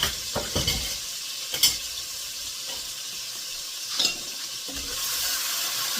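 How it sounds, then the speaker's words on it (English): Sofrito sizzling in a pot while rice is being made: a steady, faint crackling hiss runs throughout, with a few brief clinks and stirring scrapes. "this is the sound you want to hear when you're sofriendo."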